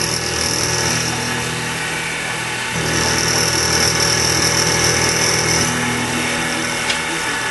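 A milling machine cutting off a metal part at a scribed line, running as a loud, steady, dense mechanical whine and grind that holds for several seconds with a slight change in tone partway through.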